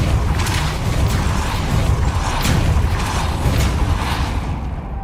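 A Depulso spell cast in Hogwarts Legacy, a dense booming burst that rolls on for several seconds, with sharp crashing hits layered over a steady low rumble.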